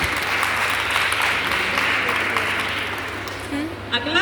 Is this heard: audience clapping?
yes